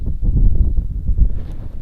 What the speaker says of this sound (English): it's an incredibly windy day here in Manor